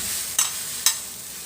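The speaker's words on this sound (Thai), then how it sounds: "หมอเริ่มเดือดแบบนี้เรากะใส่กระดูกหมูห้าวลงไปเลยจ้า" Pork bones go into a pot of boiling water for a spicy Thai bone soup, with two brief splashing clunks rising over a steady bubbling hiss.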